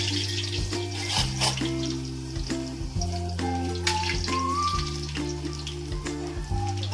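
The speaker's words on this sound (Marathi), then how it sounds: "आधी मी बटाटे थोडेसे फ्राय करून घेते." Potatoes fry in a pan with a steady, close sizzle and light crackle under background music.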